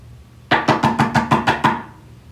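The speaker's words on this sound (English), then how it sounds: "I'm tapping on the TV tray to get one of them to come over." Someone taps on a TV tray: seven quick, evenly spaced knocks in a crisp hollow rhythm, close and fairly loud, then quiet room tone.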